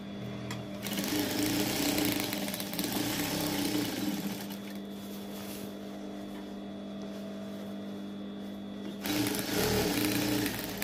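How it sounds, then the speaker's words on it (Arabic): A sewing machine runs steadily, stitching the side of a blouse sleeve downward, its close motor hum and rapid needle rattle pausing briefly near the end before resuming. "غادي نخيطو دابا من لكم ونهبطو كلشي حتى للجنب حتى لتحت"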